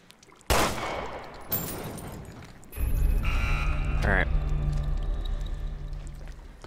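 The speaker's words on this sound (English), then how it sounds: "Let me try shooting it down." Gunshots fired at a key hanging out of reach in Resident Evil: Revelations 2: a sharp crack, then a second shot, followed by a louder burst and a metallic clatter over a steady low ambient hum.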